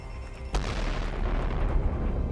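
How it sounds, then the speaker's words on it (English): A big explosion in the VR shooter Tactical Assault VR: one sudden sharp blast followed by a loud, sustained low rumble that keeps rolling without fading. "big explosion"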